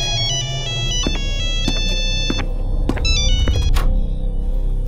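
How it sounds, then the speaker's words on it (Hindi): A loud electronic phone ringtone plays a repeating melodic pattern of bright tones, close and continuous, with a low rumble underneath. "एक फोन की रिंग सुनाई देती है जो उसके बाथरूम से आ रही है"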